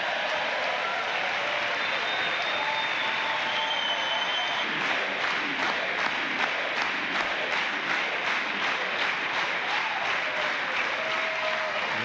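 Audience applause from a played broadcast of a political event where a new Secret Service agent is sworn in, a dense, steady wash of many hands clapping with light crowd cheering throughout, fairly loud and continuous.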